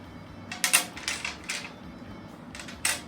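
Several clattering bursts of domino tiles being shuffled on a table, irregular and close, with quiet gaps between them.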